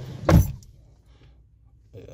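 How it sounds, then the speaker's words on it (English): A Mercedes W211 car door gives a single short, close thunk of the latch and handle, followed by near silence and a faint rustle. "Now I'll open the door and close it again."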